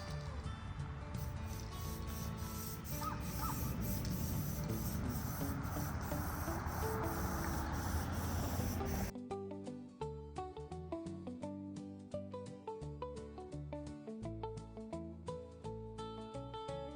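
A steady hissing spray of adhesive promoter from an aerosol can for several seconds, close and continuous, followed by quieter clicks and handling noises.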